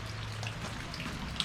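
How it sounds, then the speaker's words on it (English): Steady rain patters on a surface, with a low hum underneath and a single sharper drip near the end. "Yep, it's raining"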